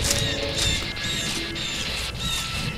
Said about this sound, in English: Sounds like a bird is very surprised to see you here.